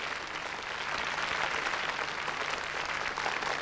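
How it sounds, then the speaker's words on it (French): An audience at the Miss France 1995 pageant applauds to welcome the bailiff, a dense, sustained clapping that swells slightly in the middle and continues throughout. "Je voudrais qu'on l'applaudisse pour qu'on le fasse venir"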